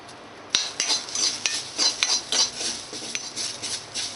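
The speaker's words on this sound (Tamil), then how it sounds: "கருவேப்பிலையை வதக்கிக்கலாம்." Curry leaves sautéing in a pan alongside roasted urad dal for a peppery pitla, heard as close, repeated metal scraping and stirring strokes over a light, steady sizzling hiss, with no talking.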